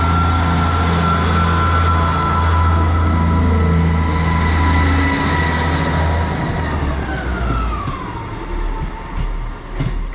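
A Class 158 diesel multiple unit train rumbles close by, engine droning with a whining tone that drops in pitch as it pulls away toward Leeds and grows fainter; the engine sounds in poor condition.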